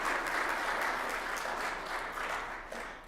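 A church congregation breaks into steady, sustained applause during a Sunday service, a dense wash of many hands clapping at close range that tapers off slightly toward the end.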